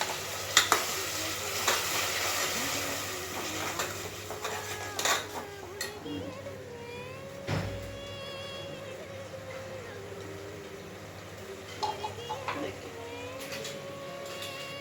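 Ground paste for mushroom biryani sizzles in a pan with ginger-garlic paste while a spoon stirs and scrapes, steady frying hiss with intermittent clinks, a voice talking briefly over it.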